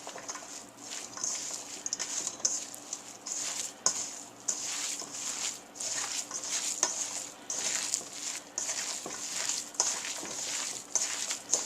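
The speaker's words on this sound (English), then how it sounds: "let me get this stirred together" Seasoned rice filling for stuffed poblano peppers is stirred in a pan, the spoon scraping and tapping in an uneven rhythm over a soft, constant sizzle, close by and fairly quiet.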